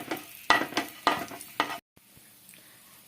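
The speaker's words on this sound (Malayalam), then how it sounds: "ഈ നെയ്യ് കിടന്ന് നന്നായിട്ട് ചെറിയ രീതിയിലൊന്ന് മൂത്ത് കിട്ടണം." Nuts roasting in a small amount of ghee in a pan, heard as a few rhythmic scraping stirs over a soft sizzle, then a brief cut to quieter frying.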